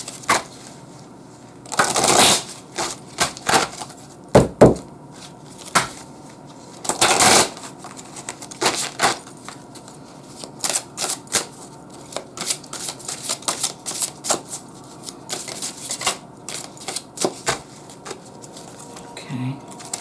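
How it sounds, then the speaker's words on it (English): Tarot cards are shuffled by hand in quiet bursts of riffling and sharp snaps, spaced irregularly with brief pauses between, heard close up and alone. "I'm being told to shuffle a little more, so I will."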